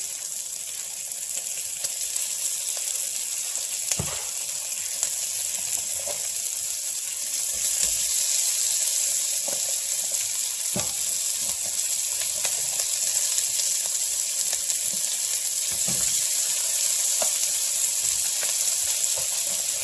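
Green peppers sizzle in a hot pan for a vegetable stir fry, a steady bright hiss of frying running throughout with a few faint clinks, no voices.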